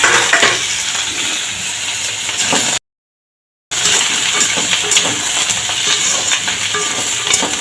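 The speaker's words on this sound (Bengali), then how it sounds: "এবার লাউটা এখানে একটু তেলেতে নেড়ে নেব।" Chopped bottle gourd tossed and stirred in hot oil, a close, steady sizzle with clinks of a spatula against the pan, cut by a brief moment of total silence midway.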